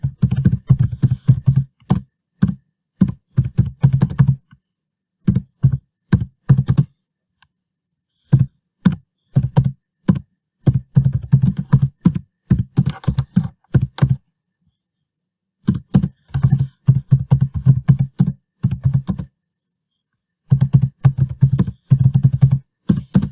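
Someone types on a computer keyboard while building a fill-in-the-gap exercise, crisp key clicks arriving in quick bursts separated by short silent pauses, close and clear with no talking.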